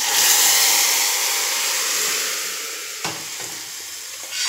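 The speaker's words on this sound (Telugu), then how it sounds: "ఇట్లా తాలింపు గిన్నెలోకి తిరగబోయండి" A hot tempering is poured into a pot and sets off a loud, hissing sizzle that fades gradually over a few seconds. A brief clatter follows, then a smaller sizzle swells again near the end, and nobody speaks.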